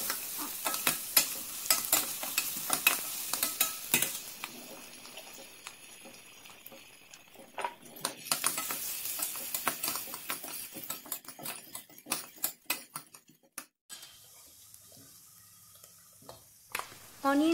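Onions and green chillies frying and being stirred in a pan for baingan bharta, a continuous close sizzle broken by scraping stirs and clinks of the spatula, with no speech.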